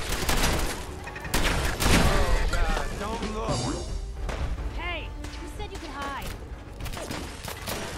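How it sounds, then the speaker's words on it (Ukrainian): Turrets in the game Fallout 4 fire rapid bursts of gunfire, loud clattering volleys with thumps across the stretch, while a person talks over the shooting. "В мене тільки чомусь турельки стріляють."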